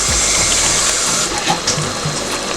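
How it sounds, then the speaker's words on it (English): Water pours and gushes steadily into a pot of frying efo riro, a Nigerian spinach vegetable soup with peppers and onions, a loud close rushing flow filling the whole short moment. "I'm gonna add a little bit of water to allow it to fry very well"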